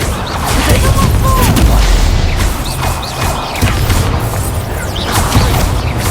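Spell blasts in Hogwarts Legacy combat, loud booming bursts and crackling impacts layered over dense, continuous game noise with whooshing effects, close and sustained throughout.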